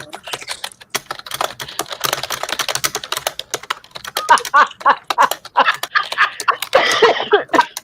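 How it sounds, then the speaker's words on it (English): Rapid, uneven clatter of fingers typing hard on a computer keyboard, close and fairly loud, with bursts of keystrokes and brief pauses and no talk. "It's just it sounded like you were typing with hate."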